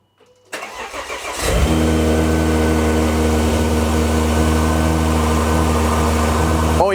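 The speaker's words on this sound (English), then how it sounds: "you hear the intake noise a lot more" A Volvo T6 engine fitted with a custom air intake cold-starts with a quick crank and catch, then settles into a loud, steady idle with prominent intake roar close by.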